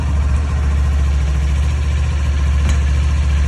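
A scooter engine idles loud and close with a steady low throbbing pulse that holds even throughout, with no voices.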